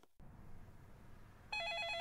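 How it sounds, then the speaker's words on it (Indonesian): A telephone bursts into a bright electronic ring in the last half-second, loud and sudden over a low, steady background rumble. "Oke, kan bener telepon ini nih, telepon orang iseng, telepon killer ini, guys."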